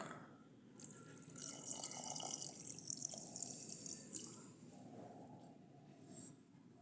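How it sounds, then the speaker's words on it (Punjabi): Water runs and trickles steadily for several seconds onto jaggery, a soft splashing pour that fades out near the end, with no voices. "ਪਾਣੀ ਵੀ ਆਪਾਂ ਜਮਾਂ ਹੀ ਥੋੜਾ ਹੀ ਪਾਇਆ ਹੈਗਾ"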